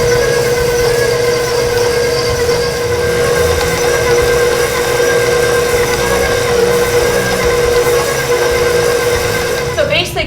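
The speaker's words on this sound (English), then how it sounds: "I'm going to raise this up, and I'm going to let this beat for like 2 minutes" An electric stand mixer beating chocolate chip cookie dough with a paddle gives off a loud steady motor whine with a constant pitched hum and rumbling churn, running unbroken for about ten seconds.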